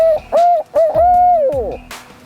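A person imitates an owl's hoot with the mouth, giving a few close, clear tonal hoots that rise and hold steady in short bursts, with breathy pauses between them.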